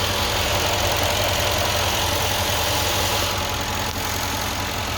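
A 2017 Mercedes GLE 63 with 65k km runs steadily on a dyno, a loud continuous engine drone with a low idling rumble and vibration holding throughout, no voices.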